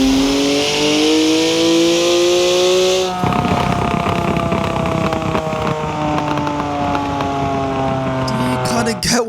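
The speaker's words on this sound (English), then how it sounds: "Now the M4 GTS doesn't sound terrible in Horizon 4." BMW M4 GTS engine in Forza Horizon 4 revving hard, loud and close, with rising and falling gear-change sweeps, a throaty rasp and crackles after lifting off, continuous through the run.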